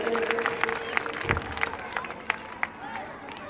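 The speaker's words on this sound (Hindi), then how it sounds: "एक बार तालियां बजाकर इन बच्चों का हौसला बढ़ाए" Audience at a school annual day celebration claps for the children, a modest, scattered round of applause heard from a distance with a little cheering.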